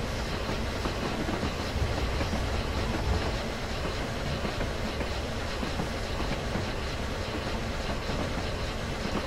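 The Flying Scotsman train rolls along the rails climbing a grade, producing a steady, loud rumble and continuous clatter of wheels from inside the carriage, with no voices.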